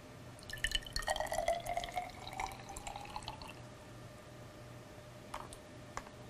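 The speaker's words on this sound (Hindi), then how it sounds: "सबसे पहले हम अ परख नली लेंगे और इसमें चूने का पानी डालेंगे।" Lime water is poured into a glass test tube during a school science experiment: a brief, faint trickle and splash of liquid, followed by a few isolated drips, with no talking.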